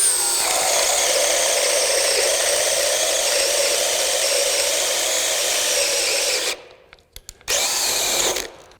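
A DeWalt Atomic 20V brushless drill running on high bores a 1 3/4 inch hole in wood, a loud, steady whine and grind that cuts out briefly, then resumes for a moment.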